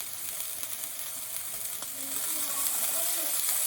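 Kangaroo loin steak frying in a hot pan gives a steady, close, loud sizzle and hiss that grows slightly stronger toward the end, with no talking.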